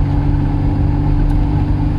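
Steady, loud engine drone of a Matra Murena sports car while driving, a continuous low rumble with whirring tones that holds even throughout, no voices over it.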